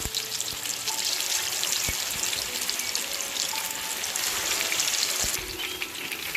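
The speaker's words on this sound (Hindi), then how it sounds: "तेल गरम हो गया है और इसमें हम मैरिनेट किए चिकन लेग को इस तरह डाल दें।" Marinated chicken legs frying in hot oil in a pan, giving a steady, dense sizzling hiss that continues without a break for the whole stretch.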